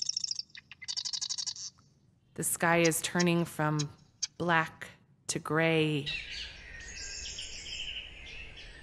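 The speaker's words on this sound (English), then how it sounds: "you hear the birds singing" Birds call at dawn, with rapid chirping bursts before a person speaks and more high calls continuing afterward.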